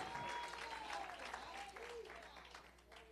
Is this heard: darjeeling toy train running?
no